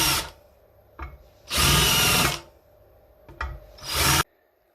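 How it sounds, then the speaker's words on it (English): Handheld power deburring tool cleaning a freshly drilled hole during a mini milling machine build, three loud close whirring bursts of cutting with short quiet pauses and a brief spin-up between them. "So let's do some small deburring here."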